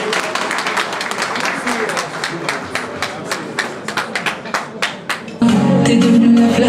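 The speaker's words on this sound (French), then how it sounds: "sous vos applaudissements" Audience applause at a gala evening, a run of scattered claps that thins out before music swells in abruptly near the end.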